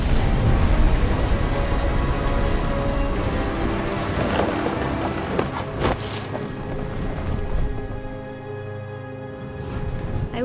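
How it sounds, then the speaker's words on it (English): Thunder rolls through a stormy scene in the video game What Remains of Edith Finch, a loud, sustained rumble layered with steady rain, with sharper cracks near the middle before it eases slightly. "The thunder sounded much too close and full of angry power."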